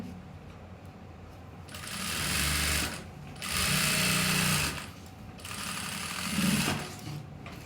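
A sewing machine stitching a kameez runs in three loud, steady bursts of rapid mechanical whirring, each separated by a short pause, close up and with no voices.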